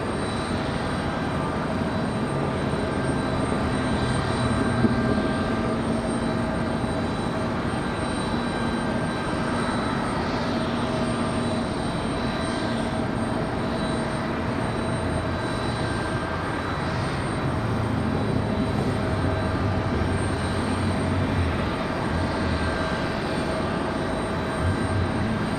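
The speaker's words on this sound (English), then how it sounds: "American Airlines, 1904, coming in from Charlotte, an A321." An American Airlines Airbus A321 arriving at Raleigh-Durham International Airport produces a continuous, broad jet roar with steady engine tones, distant and unbroken throughout, with no speech.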